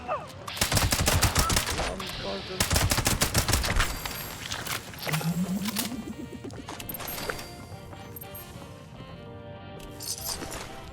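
Loud, close gunfire in the video game Fallout 76 rings out in rapid bursts, then gives way to quieter scattered shots and clatter.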